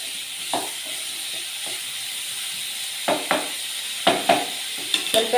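Curry leaves fry in hot oil in a pan, giving a steady soft sizzle broken by a few quick crackling pops and stirring scrapes, close by and fairly quiet.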